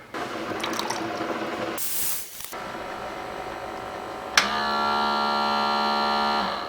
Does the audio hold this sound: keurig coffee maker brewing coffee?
yes